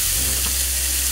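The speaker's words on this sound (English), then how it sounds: "Add our butter and our onions." Butter and onions hitting a hot pan for butter chicken, a loud dense sizzle filling the short moment with a slight stirring scrape at the end.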